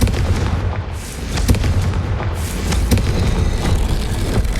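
A Confringo fire blast spell exploding in the Hogwarts Legacy video game: a loud, dense, continuous booming roar with crackling bursts throughout, heard alone without talking.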